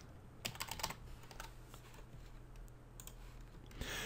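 Fingers type on a computer keyboard, entering a search in the Windows Start menu: a short burst of close, quick plastic key clicks, a brief pause, then a few more taps against quiet room hum.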